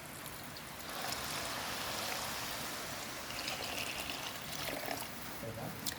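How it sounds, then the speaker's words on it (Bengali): Hot water poured into rice frying in a pot for beef biryani makes a soft, continuous rushing and bubbling hiss that swells after the first second and stays fairly quiet and steady throughout. "পরিমাণ মতো গরম পানি দিয়ে দিচ্ছি।"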